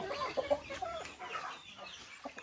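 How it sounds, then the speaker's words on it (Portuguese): Chickens cluck and a rooster of the bode breed calls nearby on a rainy rural smallholding, with several short, overlapping clucks and squawks at moderate loudness over a soft background. "Soltei esse galo da raça bode hoje"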